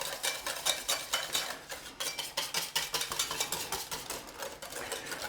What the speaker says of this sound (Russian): взбиваю